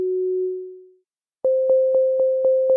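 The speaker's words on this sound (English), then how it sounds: "So I'm going to now bring in a note echo in here." An ambient synth tone in Ableton holds and fades, then a Note Echo delay effect repeats a higher pure tone as six evenly spaced echoes, each a clean loud pulse with no voices.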